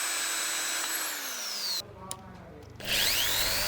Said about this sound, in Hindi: कुछ इसी तरह से मैं स्विच और LED के लिए 5 mm के बीट से ड्रिल कर लेता हूँ